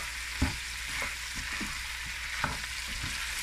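Tomato paste frying in a pan for Haitian conch sauce as it is stirred, a steady soft sizzle with occasional scraping knocks of the spoon, close and fairly quiet.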